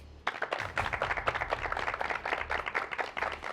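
Contestants on a taekwondo-themed martial arts competition show clap for themselves, a dense, steady burst of many hands that starts abruptly and continues evenly throughout.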